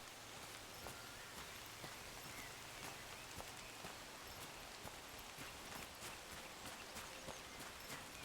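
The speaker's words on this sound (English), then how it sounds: "Yeah, it's raining" Steady rain falls in the video game Among Trees, a soft, even hiss of drops with faint scattered taps throughout, quiet and continuous with no voices.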